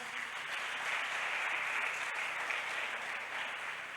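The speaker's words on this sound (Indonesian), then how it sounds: "Tepuk tangan buat kalian semua" An audience at a stand-up comedy show in a hotel breaks into applause, a steady, even wash of many hands clapping that holds throughout without talk over it.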